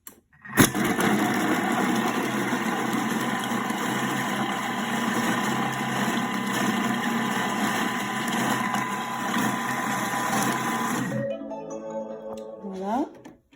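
A food processor whirs steadily at speed 5, chopping carrot and zucchini for a coconut chicken dish, running loud and continuous for about ten seconds before cutting off, followed by faint clatter as it winds down.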